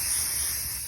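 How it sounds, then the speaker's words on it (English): A spray paint can sprays white paint over a miniature dollhouse canopy bed, a steady close hiss held without a break for under a second. "I just used white spray paint to cover up the whole bed."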